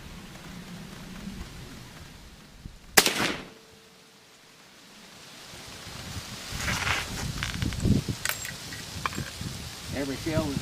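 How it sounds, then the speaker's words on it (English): An 8.15x46R rifle fired with target loads outdoors: a single sharp, loud report that decays quickly, followed by rustling and handling noise. "We're going to shoot up."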